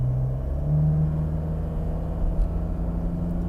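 A 2024 Toyota SW4 Diamond diesel SUV accelerating slowly in Eco mode gives a low, steady engine drone with a faint rising hum, heard from inside the cabin without speech.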